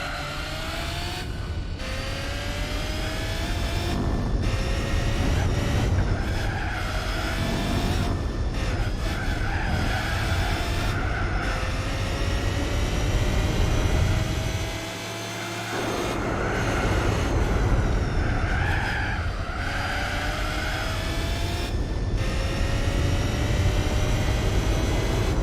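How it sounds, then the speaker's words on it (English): A car with a 7.2-litre engine making about 300 horsepower drives hard in Gran Turismo 4, its engine note rising and falling through repeated gear changes with tyre squeal, loud and continuous apart from a brief lift around the middle. "it sounds like extremely low compression, this car."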